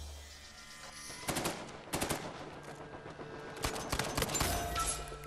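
Rapid bursts of automatic gunfire from a weapon in the video game Uncharted 4, several dense volleys of crackling shots over a few seconds against a steady game background.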